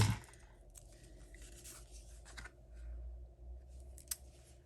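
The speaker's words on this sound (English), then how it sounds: "And then I'll just turn it over and cut it." Scissors cut paper during a Stampin' Up! paper-craft session: quiet, close snips and light paper rustling in short bursts, with a soft thump at the start and a sharper snip near the end.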